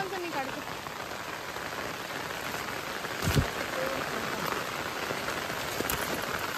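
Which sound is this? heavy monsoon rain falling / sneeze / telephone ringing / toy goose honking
heavy monsoon rain falling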